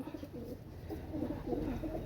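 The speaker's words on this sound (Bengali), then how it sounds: "অনেক সুন্দর কবুতর।" A pair of imported-bloodline teddy pigeons coo softly, low, throaty burbling calls repeating under quiet background noise.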